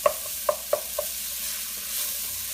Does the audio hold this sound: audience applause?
no